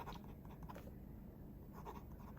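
A medium 18-karat solid gold fountain pen nib scratching faintly on paper, a soft, quiet rustle of writing strokes over steady background hiss, no one talking.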